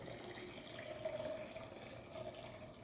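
Homemade apple scrap cider vinegar poured through into a jar gives a soft, steady trickle and splash of liquid, faint and continuous.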